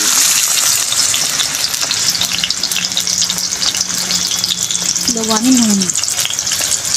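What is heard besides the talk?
chopped tomato frying in mustard-chili tempering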